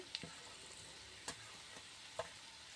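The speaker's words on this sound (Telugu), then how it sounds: "వేసుకొని మనం ఫ్రై చేసుకోవాలండి బాగా" Cabbage and capsicum fry in a pan for a Mumbai-style veg sandwich curry, giving a quiet, steady sizzle broken by a few brief stirring clicks.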